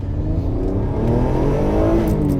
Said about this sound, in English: It sounds pretty good as standard because that engine is amazing